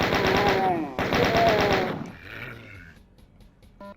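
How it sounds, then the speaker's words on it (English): Gunfire and monster growls from the game Doom: rapid, dense bursts of shots for two seconds, a short break, then more shots, followed by low roars and grunts fading into quieter game sounds. "You can kind of hear monsters."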